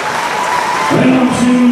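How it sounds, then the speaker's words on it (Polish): Crowd applause for the fighters at a fight night event in Malbork, steady clapping from the audience with some tonal noise and a brief voice in the background. "wielkie brawa dla moich zawodników"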